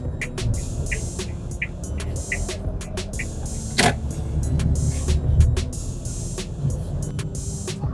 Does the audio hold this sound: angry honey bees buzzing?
no